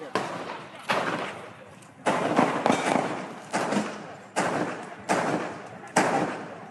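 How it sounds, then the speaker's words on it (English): Sharp bangs like gunshots ring out in a city street, about seven separate reports spaced irregularly over several seconds, each with a lingering echo tail, fairly distant and moderately loud. "It sounds like gunshots."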